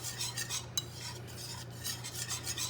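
Flour being whisked into melted butter for a roux, a close rhythmic scraping and swishing of a whisk against a pan in repeated strokes over a low steady hum, no voices.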